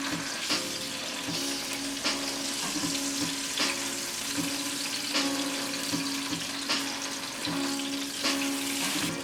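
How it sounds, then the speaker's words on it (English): Steak sears in a pot with a steady, close sizzle and crackle, broken by periodic soft clanks and stirring sounds, with no voices. "And while that's sizzling away,"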